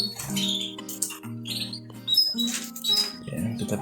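Canaries chirp and squawk in quick bursts while being moved by hand into a new cage, with close, busy calls and clattering over a steady low hum.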